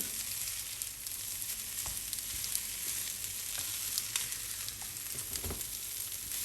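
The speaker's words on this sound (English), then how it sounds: "This process of frying, we are going to fry for about a minute." Rice with green pepper and other vegetables sizzles steadily in a hot pan for Nigerian fried rice, a continuous close crackle broken by occasional taps of a stirring utensil, with no talking.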